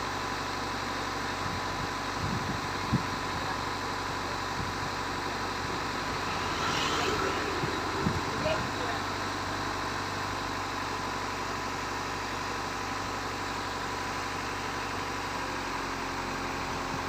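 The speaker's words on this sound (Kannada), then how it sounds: "ಡೀಸೆಲ್ ಇಂಜನ್ ಗಾಡಿ" Diesel engine of an Audi A4 idling during decarbonising, a constant low rumble with a broad machine hiss over it, steady and close throughout with a few faint knocks.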